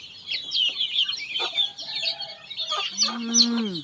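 Chickens and ducks clucking and squawking close by at a rural village home in Laos, a busy, overlapping chorus, with one bird letting out a longer drawn-out call near the end.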